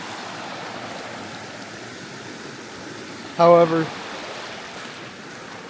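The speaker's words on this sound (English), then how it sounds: "Under this bridge, pretty nice creek." Creek water flowing under a bridge in the Ohio backcountry, a steady broadband rush that stays even and close throughout, briefly interrupted by one short spoken word.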